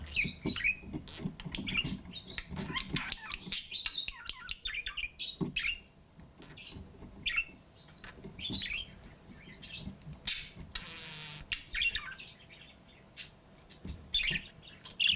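Quick, high chirps and warbling tweets from a budgerigar come in irregular bursts close by, with soft rustling and pecking between calls.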